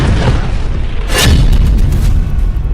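A bombardment explosion in southern Lebanon lands as a deep, heavy boom, followed by a rumbling aftermath with further muffled thuds. The sound is loud and close-feeling and stands alone without voices.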